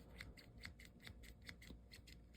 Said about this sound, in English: That's how scissors should sound.